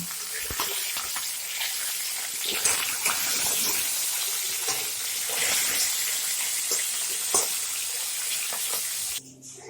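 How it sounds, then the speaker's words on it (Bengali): A fish head fries in oil, giving a dense, loud, continuous sizzle with scattered crackles that stops abruptly near the end. "মাছের মাথাটা আমার ভাজা হয়ে গেছে এখন নামিয়ে দেব"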